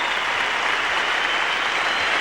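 Cricket Test match crowd applauding Greg Chappell as the whole ground rises for him, a broad, even roar of clapping heard from a distance, steady and unbroken.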